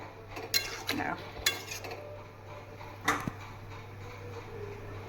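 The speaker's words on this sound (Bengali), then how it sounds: "আমি এবারে ঢাকা দিয়ে দেবো, এটা সেদ্ধ হোক।" A lid set onto a cooking pot, with a few sharp metallic clinks and clatters of pot and cutlery over a low, steady background hum.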